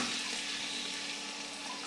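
Chopped onion and green chili fry in oil in a wok with a steady, moderately quiet sizzle and crackle, no voices present.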